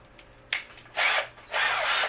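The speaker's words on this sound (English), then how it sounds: "you can use a regular drill bit, a larger drill bit, and then kind of work your way around with the drill to widen that hole out" A power drill bores and widens a hole in a metal ammo box, with three close, loud bursts of whirring and grinding separated by short pauses.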